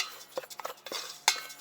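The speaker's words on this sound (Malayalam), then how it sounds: "ഇനി നമുക്ക് ഈ ഉപ്പിനെയും മാവിനെയും ഇവിടെ നന്നായിട്ടൊന്ന് മിക്സാക്കി എടുക്കാം." Salt being mixed into rice flour in a bowl, a quick run of light scraping and clinking strokes, close and quiet with no voices.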